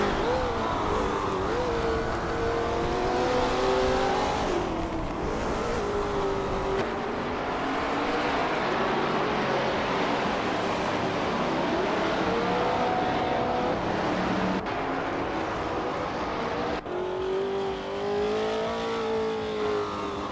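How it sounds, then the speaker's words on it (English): Race cars in a racing video game, including a Lola T70 Mk III with a Ford engine, roar continuously with rising and falling engine pitch as they accelerate and shift, loud and sustained throughout with no talking. "Scroogechamp is holding off Mattheosaurus Rex by a car length"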